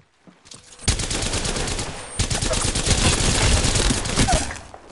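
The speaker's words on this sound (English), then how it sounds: "Opening fire." Sustained rapid gunfire in Apex Legends, a loud dense automatic burst starting after a brief pause and running to the end, with little talk.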